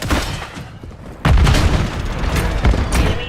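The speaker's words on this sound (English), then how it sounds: "Friendly precision airstrike inbound." A heavy precision airstrike explosion in a military shooter game, a deep booming blast that suddenly swells to full loudness and rumbles on amid layered battle noise and distant gunfire.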